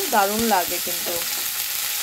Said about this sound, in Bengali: এবার এটাকে আমি সুন্দর করে ভেজে নেব।